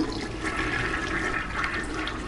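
Toilet flushing in the video game Heavy Rain, a steady loud rush of water pouring through the bowl for the whole stretch, close and alone without voices.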